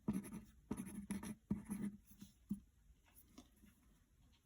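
Pen or pencil writing by hand on paper, short scratchy strokes in bursts with brief pauses, close and quiet with no voices.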